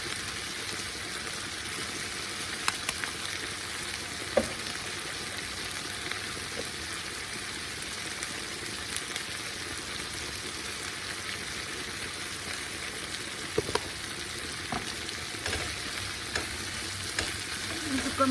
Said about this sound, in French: j'ai mis les oignons à rissoler avec un peu d'ail